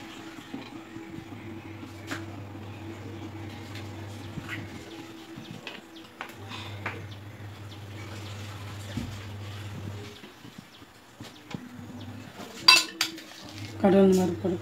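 Pots, pans and cutlery clink intermittently in a home kitchen as an oil pan is set on the stove for cooking bitter gourd stir-fry, with louder sharp clatters near the end over a low steady hum.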